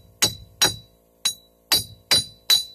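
Hammer blows on a Chevrolet Cavalier wheel bearing hub, struck to loosen it: six sharp metallic strikes at irregular intervals, close and loud, with clear ringing and no speech.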